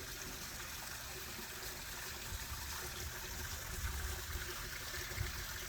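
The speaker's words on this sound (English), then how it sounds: "We can install a simple waterfall" A simple backyard landscape waterfall flows with a soft, continuous trickle and splash, faint and steady in the open air with no voices over it.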